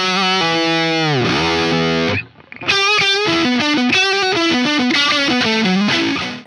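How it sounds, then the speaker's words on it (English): Electric guitar played through the overdrive channel of an M0 pedal, a gritty distorted tone with sustained notes, a bend, a brief gap, then a run of picked chords and riffs, loud and alone. "Jumping over to the overdrive side of the M0, that sounds like this."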